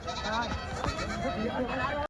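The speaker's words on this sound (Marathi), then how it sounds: "ही पण गावरान शेळी आहे" Goats bleat repeatedly at a busy goat market in Purna, Parbhani district, Maharashtra, where local country goats and Osmanabadi goats are sold, with people talking loudly throughout the short stretch.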